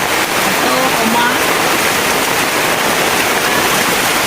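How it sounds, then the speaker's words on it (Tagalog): Heavy rain from Typhoon Paeng in 2022 pours down in a rural Philippine province, a loud, unbroken rushing wash close by, with faint voices beneath it. "Ang lakas ng ulan."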